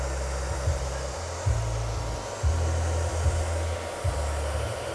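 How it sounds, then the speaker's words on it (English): Hair dryer fitted with a diffuser blowing steadily on short curly hair, a close, continuous airy roar with slight rhythmic dips as it moves. "have your fingers in there with the diffuser to help support and lift the hair right up"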